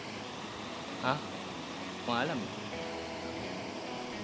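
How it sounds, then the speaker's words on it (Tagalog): A distant waterfall in Cavite gives a steady, soft rushing wash throughout, with brief voices talking over it. "mas rinig na namin yung tunog ng falls."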